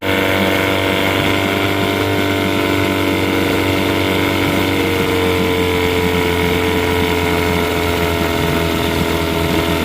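A 6hp Johnson outboard boat motor idles steadily close by, a constant throbbing drone with a smooth, unchanging rhythm and no voices.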